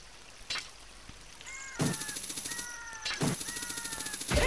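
Longshot in The Legend of Zelda: Ocarina of Time (Master Quest) fires, a sharp burst followed by a rapid rattling chain sound with a descending whistle as Link is pulled across, repeated twice, loud and clear without talk.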